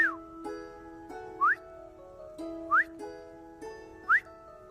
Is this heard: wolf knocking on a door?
no